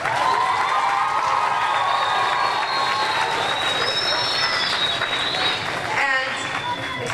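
Applause for a philharmonic society rises from a crowd gathered at an instrument event, a steady dense wash of clapping with scattered cheers that holds for several seconds and thins slightly near the end.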